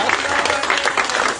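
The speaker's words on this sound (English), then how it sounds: "Let's get a Lord another hand clap." Church congregation clapping hands together during a service, a dense, steady wash of claps that fills the whole moment, with voices mixed faintly underneath.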